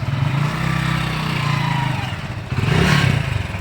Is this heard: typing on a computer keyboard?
no